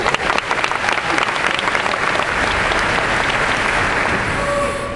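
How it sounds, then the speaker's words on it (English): A university debate audience at UCF in 2009 bursts into loud, dense applause that holds steady for several seconds before slowly tapering off. "by all means, restrain your applause, as I was rather alarmed to see you just did"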